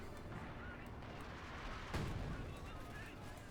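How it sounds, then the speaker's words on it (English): Artillery fire in a Company of Heroes 2 battle: one heavy boom lands midway through, standing out over a steady, dense din of battlefield noise. "More artillery fire."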